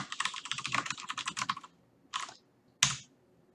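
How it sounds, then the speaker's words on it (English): Rapid burst of computer keyboard typing while entering C++ code, a dense run of close keystrokes followed by two short separate clusters of keys after pauses. "I'm going to call the printf function and type hello world."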